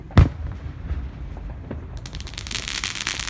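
Fourth of July fireworks going off outdoors: a sharp, loud bang near the start, then scattered pops and a rising wash of crackling sparks toward the end.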